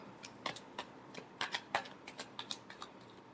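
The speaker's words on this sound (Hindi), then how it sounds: "last shuffle" A deck of tarot cards being shuffled by hand gives a quick series of crisp riffling flicks and taps, close and fairly quiet, with no talk.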